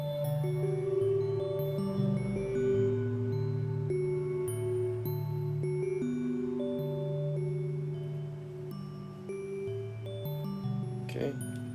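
The Rings synth voice in a modular patch plays sustained, resonant tones that step through slow changing notes, a soft ambient drone with a brief metallic burst near the end, alone without talk.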